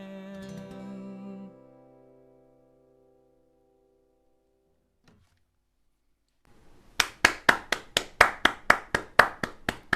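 After a song fades out at a virtual campfire sing-along, a single pair of hands claps about a dozen times in a steady, even rhythm, close and crisp against near silence.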